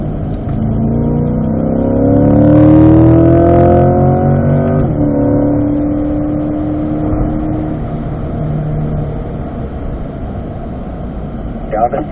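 A car on a race track accelerates out of a corner, its engine note climbing steeply and loudly, then dropping sharply at a gear change and pulling on again more steadily before fading toward the end.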